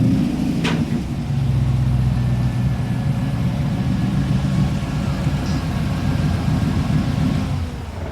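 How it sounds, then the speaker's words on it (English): A home-built Cobra kit car idles steadily while its cooling fans whir, a loud low engine rumble holding constant for several seconds, with no voices over it. "It's good to hear working fans as well on a classic car."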